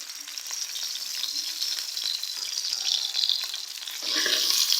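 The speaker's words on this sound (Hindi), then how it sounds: "मैंने कढ़ाई में 1/2 कप ऑयल कर लिया है और ऑयल जो है हमारा गर्म हो गया है। इसमें मैं ऐड कर रही हूँ 2 मीडियम साइज़ के प्याज" Onions, two medium ones, frying in half a cup of hot oil in a kadai, giving a steady close broadband sizzle that swells louder near the end as they settle in, with no talking.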